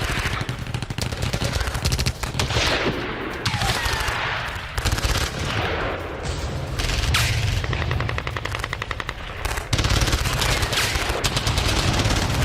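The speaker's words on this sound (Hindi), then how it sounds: "तेरा इलाके में टीटीपी की जबरदस्त फायरिंग।" Sustained heavy gunfire from a TTP militant attack on security forces in Khyber Pakhtunkhwa, dense rapid automatic bursts rattling continuously and loudly with only brief breaks.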